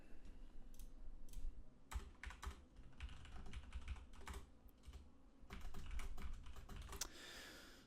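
Typing code on a computer keyboard while writing a JavaScript tic-tac-toe game: rapid, steady clusters of keystroke clicks, close and fairly quiet, with short pauses between bursts and no talking.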